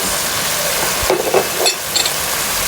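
Onions going into a pot of Jamaican stew chicken with dark-meat chicken and dry thyme: steady frying sizzle with a few stirring scrapes and soft clatters near the middle.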